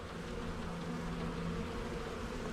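Honeybees from a newly installed package buzz around their hive, a continuous low droning hum from many insects close by, steady and fairly quiet with no voices.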